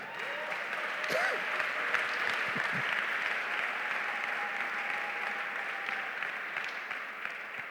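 A church congregation clapping in acclaim of the Lord, dense steady applause from a large crowd lasting throughout, with scattered voices faintly mixed in.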